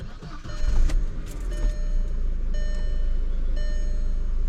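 A 2002 Volkswagen Passat wagon is started with the key: a brief crank catches into a steady, close engine idle while warning chimes ding at regular intervals.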